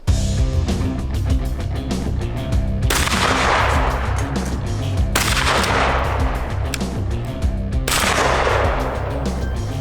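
Three loud, sharp shotgun blasts ring out at sporting clay targets, spaced a few seconds apart, each with a booming decay over a steady low background.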